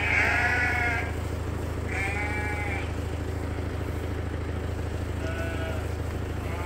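Rams on a sheep farm bleat during a grain feeding, two loud close calls near the start and a fainter one later, over a constant low hum of machinery and ambient farm noise.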